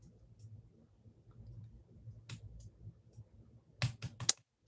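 Computer keyboard keys clack in short scattered bursts, a few faint taps early and a quick cluster of sharper clicks near the end over a low background hum.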